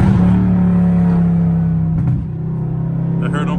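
A loud Dodge Scat Pack downshifts, its engine droning and rumbling steadily with a dip in revs partway through, recorded from inside the car.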